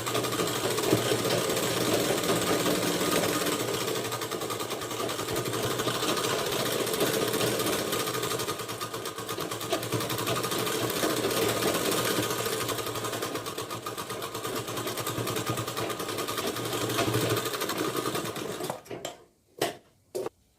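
A sewing machine runs steadily, stitching a waistband strip onto a blouse for nearly twenty seconds, with a loud, continuous mechanical whir and rattle that stops abruptly near the end, followed by a few faint clicks.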